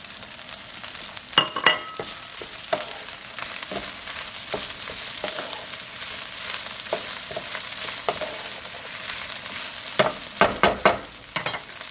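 Bacon fried rice with green onion is stir-fried in a pan, making a continuous crackling sizzle broken by repeated spatula scrapes and clacks that grow busier near the end.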